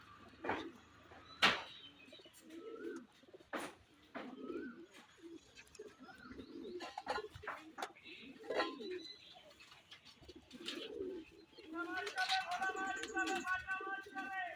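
Male pigeons coo in low, throaty bursts again and again, close by, with sharper clicks, flutters and chirps scattered between.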